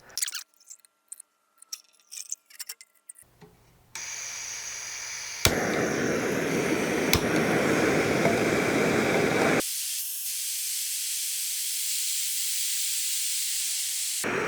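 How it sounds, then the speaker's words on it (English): A Jetboil Flash 1.0L backpacking stove roars with a steady, loud hiss as the burner heats water, with a click where the flame changes partway through, preceded by scattered handling clicks and taps. "We have boil in the old one."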